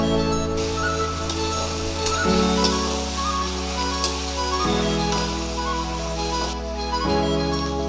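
Onions fry in a pan with a little sugar, giving a constant crackling sizzle. A steady low hum runs underneath and shifts pitch a few times. No one talks.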